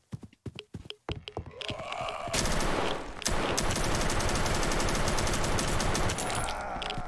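Gunfire in the game Karantiin: a few sharp isolated shots at the start, then a dense, loud sustained burst of rapid automatic fire that runs to the end.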